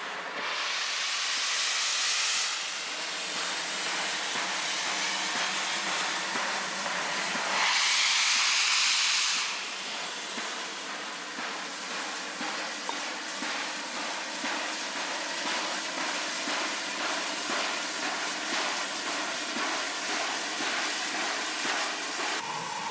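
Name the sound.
steam locomotive train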